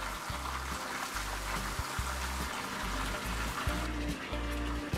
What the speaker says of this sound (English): we just infuse the fuel here with a whole bunch of air and it bubbles up